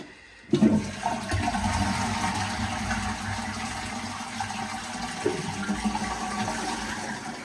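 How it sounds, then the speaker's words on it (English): A household toilet running a full flush in a freshly renovated bathroom, a loud continuous rush of water starting abruptly and holding steady for several seconds, close by with no talk. "That's a full flush."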